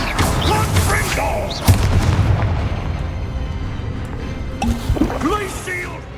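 Fiery Confringo spell blasts boom and crackle during a Hogwarts Legacy battle, a sharp hit near 1.7 seconds amid rumbling combat noise, with voices calling out spells over the din.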